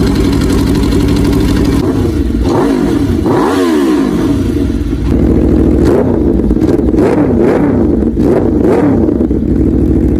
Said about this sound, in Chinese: 先给大家放一下 V4 声浪。